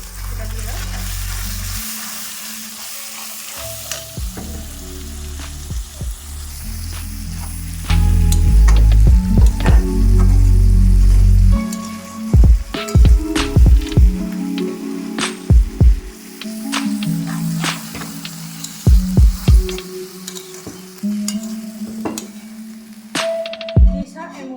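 Ginger, garlic and green chili paste sizzles loudly in hot oil in a pan while a chicken curry with potatoes is cooked, with steady frying hiss broken by sharp clinks and scrapes of stirring and occasional talk.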